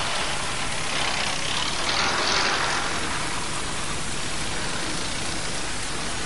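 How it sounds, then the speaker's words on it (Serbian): Steady rain falls on a city street in a dramatized scene, a dense, even hiss with a faint low rumble underneath, continuous throughout with no voices. "Eto sad, na primjer, pada kiš."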